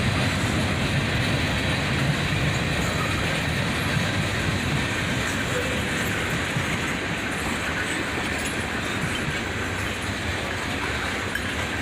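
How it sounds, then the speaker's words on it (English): A CN freight train with SD40-3 locomotives rumbles steadily past at close range, slowing into a yard, a dense continuous roar of rolling wheels and rattling cars with no pauses. "now we're at the end of the train as he slows down into the yard"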